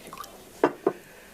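Water poured for a guest, heard as two short liquid splashes or drips close by about a quarter second apart, with faint indistinct sound before them and quiet after.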